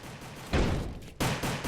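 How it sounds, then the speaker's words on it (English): Gunfire aimed at a zombie in a Roblox game: two sharp bursts of rapid shots, the first at about half a second and the second just after one second, each a loud crackling volley, with no talking. "shoot the zombie, take him out in my little fort"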